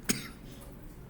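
A single short, dry cough comes from a nearby person, followed by quiet room tone.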